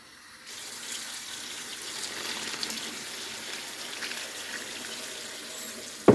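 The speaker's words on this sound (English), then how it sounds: "we want to just cover it with water" A kitchen tap runs steadily, water pouring in a continuous soft hiss to cover pickle relish ingredients, until a brief clunk at the end.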